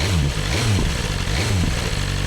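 A motorcycle engine, fitted with a HealTech ES Eliminator valve controller and warmed up, idling steadily at just over 1000 rpm, a deep rumbling drone with a regular pulsing throb, close and fairly loud.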